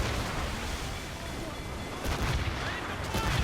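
Ship cannon fire in Assassin's Creed Rogue, rumbling booms over a dense roar of sea and battle noise, with a heavier volley near the end.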